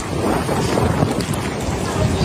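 Strong typhoon wind roars without pause over a microphone in Batanes, a loud, dense, gusting rush that fills the whole clip.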